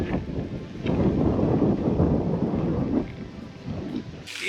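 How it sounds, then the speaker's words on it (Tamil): Strong wind gusting through a village, a loud, steady roaring rumble buffeting the microphone for several seconds with no voices, easing briefly near the end. "சரியான காற்றடிக்குது"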